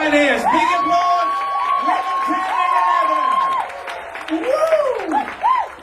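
Audience at a Crowd1 corporate event applauding and cheering, clapping mixed with whoops and rising shouted voices, fairly loud and close, tapering off into scattered cheers.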